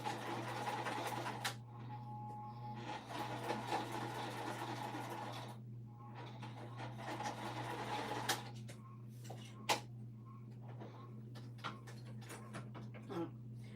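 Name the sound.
sewing machine stitching fabric until the bobbin runs out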